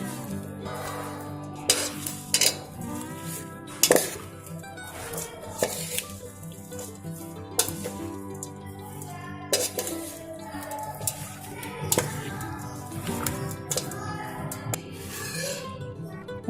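A spoon stirs and mixes Punjabi pickle with lemon juice in a metal pot, giving scraping, clinking strokes and occasional sharper knocks against the side over a steady kitchen background, close and fairly loud.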